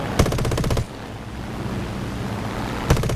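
Aircraft machine guns fire in the War Thunder combat flight game on a British plane, a loud rattling burst, then a steady engine and wind drone, then another short burst at the end.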